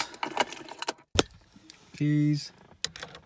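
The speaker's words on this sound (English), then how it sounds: "Let's get the keys." Keys jangle with sharp metallic clinks in short bursts, up close, while fitting a head unit in a Nissan Silvia S15, followed by a brief steady electronic hum and more clinks.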